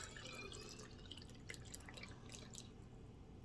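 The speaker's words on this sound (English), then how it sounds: "Now I'm going to pour my fire cider." Homemade fire cider pours through a funnel into a jar, a quiet liquid trickle with a few distinct drips near the middle, close and soft over low background hum.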